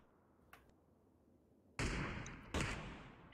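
Video game gunfire from an online shooter match: a faint early pop followed by two loud, sharp blasts about a second apart, each leaving a decaying echo, with no voices.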